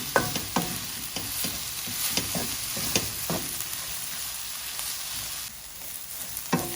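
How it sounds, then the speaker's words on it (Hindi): Cumin seeds fry in oil with a crackly, steady sizzle while a spoon scrapes and taps the pan in quick, irregular strokes, the stirring thinning out partway through. "1 टेबल स्पून में इसमें जीरा डाल दूंगी और इसको अच्छी तरह से फ्राई करूँगी।"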